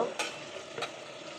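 Chana dal and two bay leaves fry in a pan with steady broadband sizzling and two brief stirring scrapes. No one speaks.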